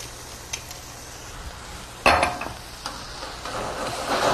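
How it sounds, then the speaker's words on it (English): Beef stock goes into a hot pan of portobello mushrooms for a moose steak and cherry dish, giving a sudden loud sizzle that settles into steady frying hiss, with a few utensil clinks and stirring scrapes close by. "And this is just some beef stock."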